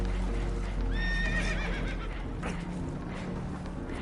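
Spooked horses whinnying in Red Dead, a shrill rising neigh near the start over hoof clatter and a low rumbling background, fairly close and loud.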